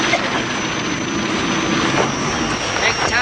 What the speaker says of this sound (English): The royal family use helicopters to visit the more isolated parts of Thailand.